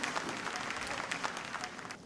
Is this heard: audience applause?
yes